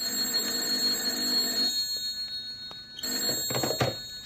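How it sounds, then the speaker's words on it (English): A telephone bell rings in a quiet room, a sustained metallic trill that cuts off, followed by a short clatter as the handset is picked up. "Then my phone shrilled."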